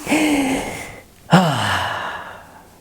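A dog lets out a long, squeaky yawn in two drawn-out breaths, the second rising into a whiny vocal tone before trailing off.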